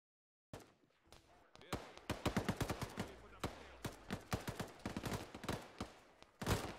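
A PKM machine gun in Arma 3 fires in short, rapid bursts of loud, punchy shots close by, with brief pauses between volleys and a final heavier blast at the end.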